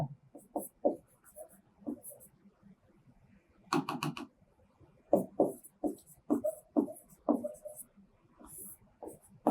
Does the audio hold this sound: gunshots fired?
no